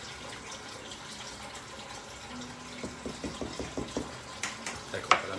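Potato cooking water poured into a pot in a Sardinian kitchen, a low steady trickle that turns into a run of rhythmic glugs and splashes, ending with a sharp clink.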